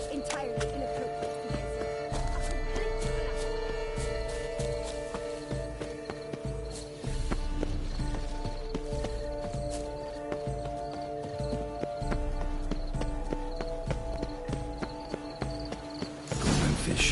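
A horse's hooves clip-clop steadily while it is ridden through large gardens in a PS4 video game, close and continuous beneath layered game music.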